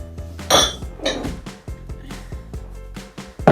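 Ceramic bowls clink and knock together as they are taken out in a home kitchen while baking rainbow bagels, giving several sharp, close clatters spaced irregularly.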